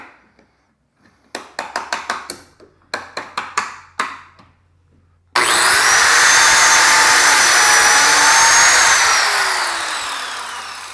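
Biscuit joiner cutting a spline slot in wood in a workshop: a series of sharp, rapid knocking bursts in two groups, then the motor winds up into a loud, steady high whine that slowly tapers at the end.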